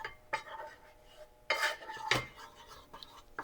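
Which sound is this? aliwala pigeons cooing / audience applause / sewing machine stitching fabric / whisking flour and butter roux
whisking flour and butter roux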